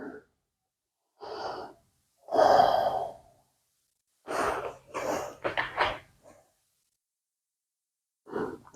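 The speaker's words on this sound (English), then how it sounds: "Take a few breaths here." Breathing in a beginners pilates shell stretch, folded forward over the thighs: a few separate audible breaths and sighs with silent gaps between, close and moderately loud, no speech.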